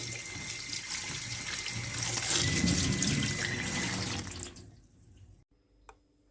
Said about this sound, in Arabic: هنفضيه كده، لازم نغسله كويس طبعا من الدم بقى اللي هو فيه واي حاجه تكون عليه بقى.